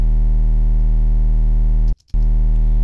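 Sustained tone through Ableton's Amp effect on the blues algorithm with stock settings, giving a steady, buzzy, harmonically rich distortion, loud and continuous apart from a brief dropout near the two-second mark.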